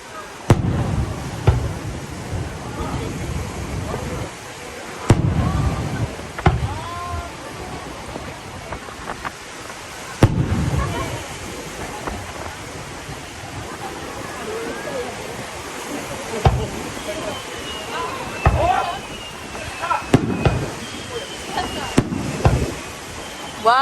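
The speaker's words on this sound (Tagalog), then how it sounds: "Grabe, ang lalaking fireworks ang ginamit ngayon." Large fireworks bursting at close range during a summer 2023 display, heavy booms landing every few seconds with crackling and rumbling between them, while people talk and exclaim over the show.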